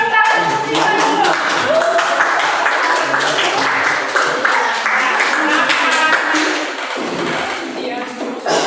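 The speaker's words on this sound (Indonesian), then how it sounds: "Oke, kita beri tepuk tangan untuk Lisa dulu." A classroom group claps for Lisa, a dense burst of many hands that holds loud and steady, then thins briefly near the end before picking up again.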